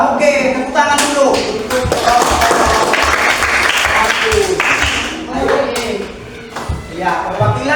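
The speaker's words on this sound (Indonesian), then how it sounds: "tepuk tangan dulu" A group of students claps together in a classroom session, a loud burst of dense, steady applause running throughout with a few voices audible beneath it.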